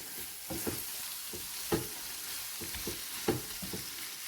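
Prawn karahi masala fries in a pan with a steady broadband sizzle, and spatula stirs make louder scraping bursts at irregular intervals. No one speaks.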